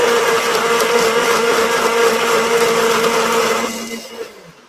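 A white countertop blender purées fire-roasted peppers, onion and garlic, a loud, steady motor whir holding for about four seconds before winding down and cutting off.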